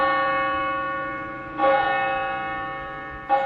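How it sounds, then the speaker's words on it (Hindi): A large bell tolls twice, each deep resonant strike ringing out and decaying slowly before the next, loud and alone. "इसके लिए बहुत जरूरी है कि भारत में एक विशालकाय घंटा लगाया जाए।"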